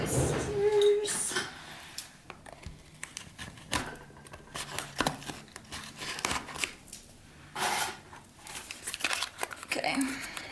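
Sharp snipping and crinkling of plastic packaging in irregular bursts, close by, with some quiet handling noises between cuts.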